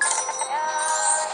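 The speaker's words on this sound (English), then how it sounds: "Maybe I'm gonna call the skunk bell" A bell rings in a video game with a bright, shimmering metallic chime held for a moment at steady loudness, alone without voices.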